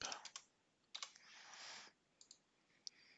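Keys clatter on a computer keyboard in quiet, uneven bursts of rapid clicks with brief pauses, close but soft.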